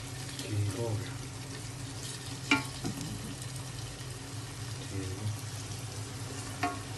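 Onions browning and being stirred in a pan for an aloo chicken dish at home, a steady sizzle with scraping spoon strokes and occasional clinks, with people talking faintly nearby.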